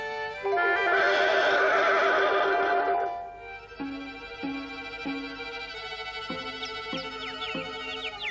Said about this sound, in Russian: Гэтые кони быцам зусім нас не бачать.